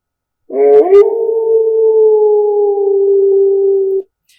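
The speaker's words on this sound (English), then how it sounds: "Now let's go for the wolf howling." A single long wolf howl from a sound effects library, rising briefly at the start and then holding a steady, clear sustained tone for about three and a half seconds before cutting off cleanly in silence.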